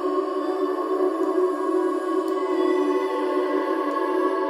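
Heavyocity Vocalise 3 vocal samples, many keys struck together and played through reverb, form a dense sustained tonal pad with layered steady harmonics that hold evenly throughout at moderate loudness.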